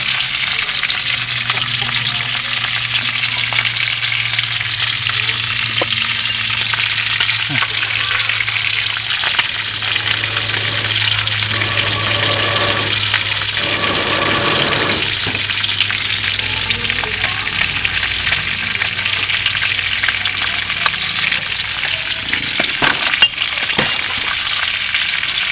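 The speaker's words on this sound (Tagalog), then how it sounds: "Pangalawang batch na piniprito." A second batch of food frying in a pan at home, a continuous dense sizzle with soft crackling that holds steady throughout, near and fairly loud, with a low hum underneath and no talk.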